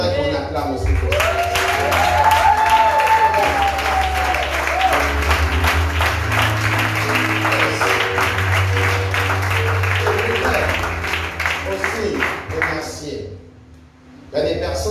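A church congregation applauds together, a dense burst of clapping that carries under a speaking voice and other sounds before dropping away near the end.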